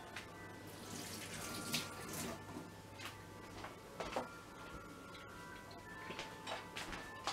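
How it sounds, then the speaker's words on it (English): Tap water runs steadily into a sink with small splashes and clinks, like hands being washed, at low level. "I'm just gonna wash my hands."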